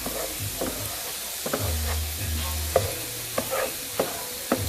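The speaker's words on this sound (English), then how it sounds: "I'm gonna mix this together for a little bit. Let it cook through." A chili beans mixture with bell pepper and garlic cooks in a pan while being stirred, giving a continuous sizzle with soft periodic scrapes and taps of the spoon, close and alone.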